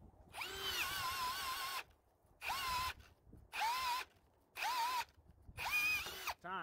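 Ryobi cordless hammer drill with a 6.0Ah high-output battery boring 3/4 inch holes, five loud bursts of whining motor and grinding cut, each lasting about a second, separated by short pauses.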